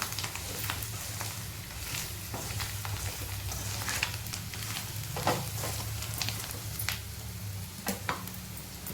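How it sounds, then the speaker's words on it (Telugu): Mutton frying in a pan gives a steady, moderate sizzling hiss with scattered crackles and pops, continuous for several seconds with no talking. "ఫ్రై అయితే అయిపోయిందండి, మటన్ ఫ్రై రెడీ అయింది"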